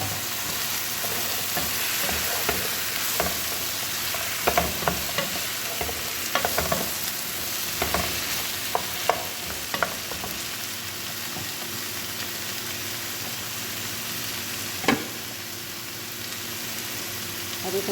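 Bottle gourd (upo) tossed into a hot pan for kalderetang upo, frying with a steady close sizzle and scattered stirring clatters and scrapes throughout, no voices.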